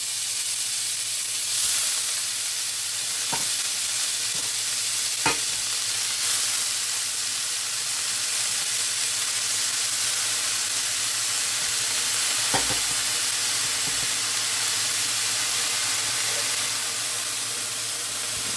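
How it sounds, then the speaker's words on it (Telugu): Ridge gourd peel fries in oil in a pan, a steady broad sizzle with a few brief scrapes and clicks of stirring, close and even throughout, with no talking. "ఆయిల్ వేసి బీరపొట్టు వేసుకుంటున్నాం."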